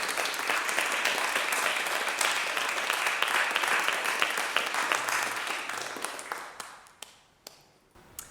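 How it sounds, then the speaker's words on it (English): A congregation at a Matariki and new-member Sunday service applauds two musicians, dense clapping from many people that holds strong and then thins out to a few scattered claps before fading away. "another double round of applause for both of our musicians"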